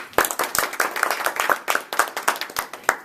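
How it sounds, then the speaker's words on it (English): A small audience at a Toastmasters club meeting welcomes the evening's hosts with scattered, uneven clapping: individual hand claps ring out at a loose rhythm, fairly close, for about three seconds. "So let's give them a round of applause."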